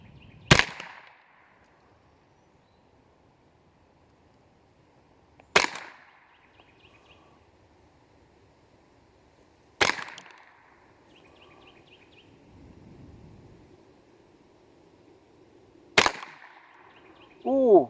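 Four sharp, loud shotgun blasts from Eley Outlaw cartridges fired at clay targets, spaced several seconds apart, each a sudden crack with a short ringing tail over a quiet outdoor background.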